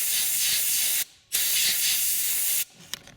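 Cleaner sprayed onto the fuel filter housing of a Dodge Ram diesel truck: two long, steady, loud bursts of spray hiss with a short pause between, followed by quiet handling clicks.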